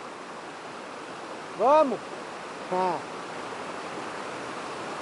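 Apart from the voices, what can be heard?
Batistão waterfall rushing water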